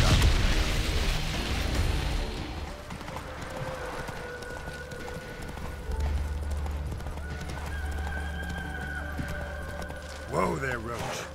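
Horse hooves clip-clop in a video game, with a horse neighing near the end, all under someone speaking.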